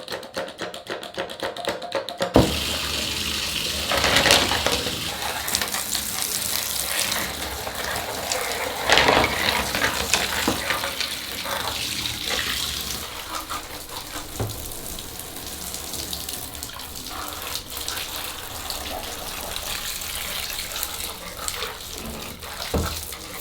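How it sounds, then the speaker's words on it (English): Tap water runs into a sink while the shell and buttons of a dirty Game Boy are washed, a steady close gush with splashing, knocks and handling noises throughout after a brief opening clatter. "I'm going to go and put all of this in the sink and give it a nice wash."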